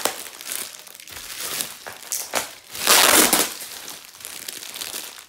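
Plastic packaging crinkling and crushing while a diamond painting kit is unboxed, loud close bursts of rustle coming in uneven waves, with the densest crumple in the middle and no talk.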